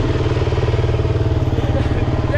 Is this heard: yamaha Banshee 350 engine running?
yes